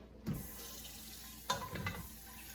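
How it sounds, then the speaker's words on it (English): Faucet water rinses a cooking pot, two short splashing bursts of running water close by in a quiet kitchen, with no talking. "I am gonna rinse. Besides, I gotta get those couple of noodles off the bottom of my pot"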